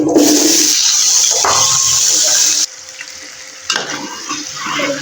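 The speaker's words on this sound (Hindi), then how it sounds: "प्याज ब्राउन करके उसके बाद आलू ऐड करेंगे।" Potatoes frying in a pan with browned onions, a loud steady sizzling hiss that drops away midway and returns with clattering as the pieces are moved.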